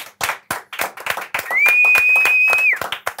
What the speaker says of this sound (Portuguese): Eu acho que nós podemos bater palmas aqui ou não?